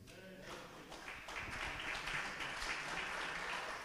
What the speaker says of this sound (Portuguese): Fique de pé e aplauda o Senhor.